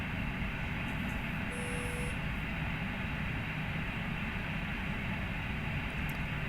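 Airbus A330neo jet engines in Flight Simulator X give a constant, loud, broadband roar with a heavy low rumble. The drone holds steady throughout, and a brief faint tone appears early on.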